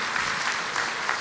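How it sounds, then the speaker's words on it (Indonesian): Church congregation claps for God during a sermon, a brief burst of fairly faint, diffuse applause with a soft rhythmic pulse. "Beri tepuk tangan yang meriah buat Tuhan"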